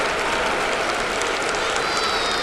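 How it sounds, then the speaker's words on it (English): Baseball stadium crowd applauding to encourage the pitcher, dense steady clapping from a large crowd, loud and continuous with no talk. "The fans trying to encourage Joba here"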